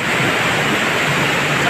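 Strong water rushes steadily through a cold river in a low-lying, flood-prone area, a close, unbroken roar with no pauses.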